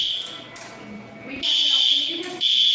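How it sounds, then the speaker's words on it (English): A fire alarm sounds as a shrill, high electronic tone that cuts in and out in bursts, growing louder toward the end, while people talk underneath. "He does strike me as somebody that could just shoulder bump, elbow bump the fire alarm, and it goes off."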